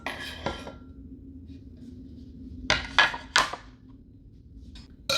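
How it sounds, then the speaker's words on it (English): Cubed unsalted butter dropped into a bowl of strawberry crisp crumble mix, a few sharp close clinks and knocks against the bowl separated by quiet pauses. "we are going to add in our cubed unsalted butter."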